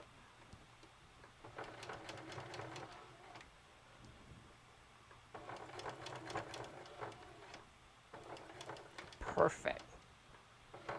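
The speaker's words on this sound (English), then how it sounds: "I back stitch a little bit more than I need to because this is the stress of the bag." Sewing machine back-stitching the seam of a Cricut tote bag, running in bursts of rapid mechanical stitching with pauses between them, heard close up under light background noise.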